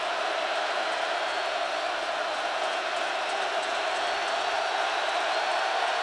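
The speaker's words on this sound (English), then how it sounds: "Listen to this crowd." A huge stadium crowd at a college football game between Miami and Nebraska roars in a steady, broad wash of noise that stays constant and distant-sounding throughout.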